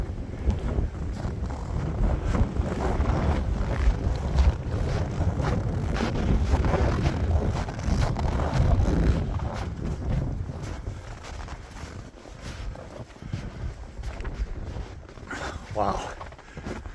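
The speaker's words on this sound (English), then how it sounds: "The wind is starting to pack it hard." Strong blizzard wind buffets the microphone in a steady roar across knee-deep snow, and someone talks over it.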